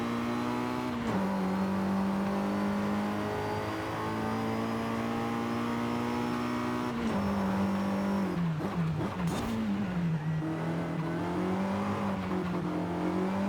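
Racing car engine in Forza Horizon 5 holding a steady high drone, with a dip and brief rev wobble near the middle as the car corners, then climbing again, loud and continuous with no talking.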